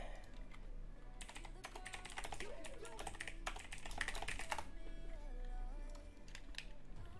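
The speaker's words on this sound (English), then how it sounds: "I was typing." Rapid typing on a computer keyboard during a Pokémon Unite match, with bursts of close key clatter alongside game sounds and voices talking.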